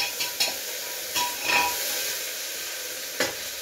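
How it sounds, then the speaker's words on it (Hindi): Carrots and green chilies frying in a pan for veg biryani, a soft steady sizzle broken by a few sharp spoon taps and scrapes, close and fairly quiet with nobody talking. "और ये गाजर और ये हरी मिर्च डालकर इसे 2 मिनट फ्राई होने दूंगी।"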